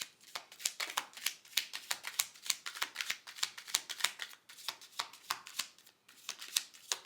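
Tarot cards being shuffled by hand, a close, fairly quiet series of rapid crisp riffling slaps and flicks repeating in quick irregular bursts throughout, with no talk.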